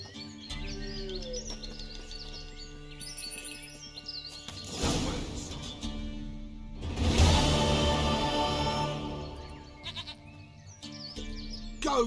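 A goat in the video game The Witcher 3: Wild Hunt bleats several times nearby, with thin cries and two louder, rougher bursts in the middle, over a quiet game ambience with faint bird chirps.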